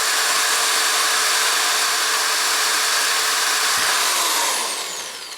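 A power drill bores through a plastic mounting block for the elements of a Mosley 6M-33-JR six-meter Yagi antenna, whining steadily and loudly at close range, then easing off near the end.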